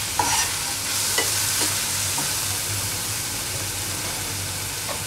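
Garlic and onion sautéing briefly in a pan for snake gourd bhaji, a broad hissing sizzle close by with a few soft stirring knocks early on, then a steady fry.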